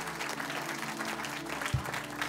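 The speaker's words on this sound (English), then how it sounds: "give Jesus a hand clap of praise" A church congregation claps hands in praise after a prayer during a worship service, a short burst of fairly quiet, even clapping with a low hum beneath.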